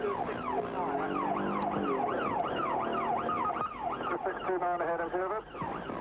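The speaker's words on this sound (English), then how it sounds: "Get the lights on. Get some noise, John." A police siren wails loudly close by, sweeping up and down and then switching to a faster yelp, over engine rumble and some faint speech.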